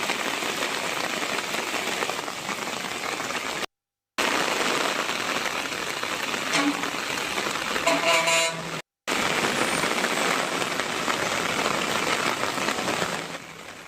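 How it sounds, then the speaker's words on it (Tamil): Heavy rain pours down in Dharmapuri with water rushing along the roads, a loud, steady hiss and splash lasting throughout, broken only by two brief silent cuts, with faint vehicle horns in the background. "சுமார் 2 மணி நேரத்திற்கும் மேலாக பெய்த கனமழையால் சாலைகளில் தண்ணீர் பெருக்கெடுத்து ஓடியது"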